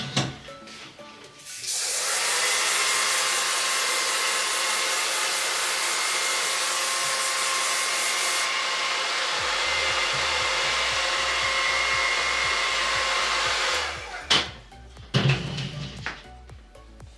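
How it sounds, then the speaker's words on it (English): A hair dryer blows on a drag wig in a long, steady close-up whoosh that starts abruptly, runs for about twelve seconds, and cuts off, with faint rubbing and handling noises on either side. "And then blast it with the hair dryer and the hairspray."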